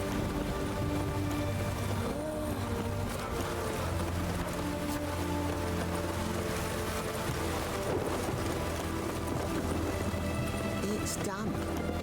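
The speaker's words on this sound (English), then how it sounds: "It's raining." Rain falls steadily in The Witcher 3: Wild Hunt, a continuous dense patter on surfaces mixed with game ambience and faint tonal background sounds, with no break across the whole stretch.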